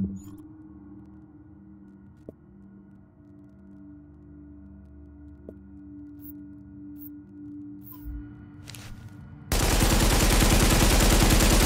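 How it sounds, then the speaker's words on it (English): A black market AK-47 firing in the video game The Division, a loud, close sustained burst of automatic gunfire arriving near the end after a long quiet humming stretch with faint clicks. "this black market AK-47 has pretty bad recoil"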